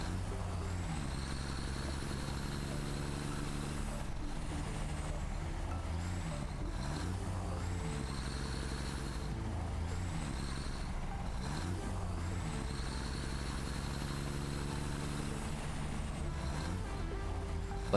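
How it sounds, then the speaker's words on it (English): A truck in the video game Satisfactory strains against a 4-meter ramp. It gives a steady, droning engine hum with rising and falling whines that repeat in cycles, alone and at moderate loudness for the whole stretch. "This truck still can't make it up this 4-meter ramp"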